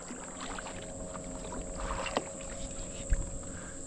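Canoes and kayaks paddle by on the Current River, quiet water swishes and a couple of sharp knocks of paddles against hulls over a steady outdoor background, no one speaking.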